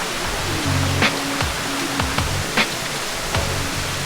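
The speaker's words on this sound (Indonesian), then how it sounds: "Air terjun ini berlokasi hanya 10 meter dari jalur pendakian." Curug Pancawala waterfall beside a mountain hiking trail on Gunung Gede, a constant broad roar of falling water, with a few faint thumps and low tones over it.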